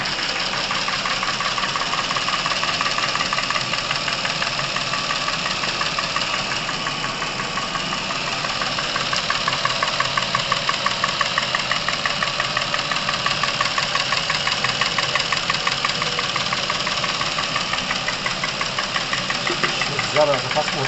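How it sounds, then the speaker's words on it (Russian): A car engine idling after dimexide is added to its oil, a steady mid-pitched running drone with a rapid, regular knocking tick throughout, loud and close, with someone speaking over it. "Прошу обратить внимание на изменения в работе двигателя, которые происходят мгновенно при попадании димексида в масло."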